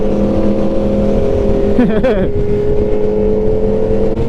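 Three 1000cc sport motorcycles, a BMW M1000RR, Suzuki GSX-R1000 and Yamaha MT-10, hold a loud, steady engine drone, with one brief rev swelling and falling near the middle.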